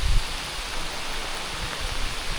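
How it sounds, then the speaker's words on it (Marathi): Heavy rain pours in a Konkan village beside water where people are fishing, a dense, unbroken roar of rainfall close all around with no pauses. "पाऊस तुफान आलाय हा बघा।"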